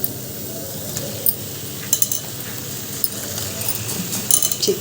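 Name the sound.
chicken added to pan and frying with onions, tomatoes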